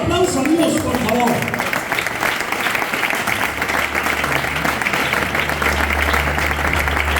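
Church congregation giving loud applause, dense sustained clapping filling the room, with brief voices and music tones underneath at the start and a low hum later.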